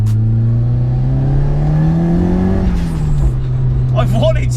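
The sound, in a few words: 400 bhp Nissan Pulsar GTI-R car engine revving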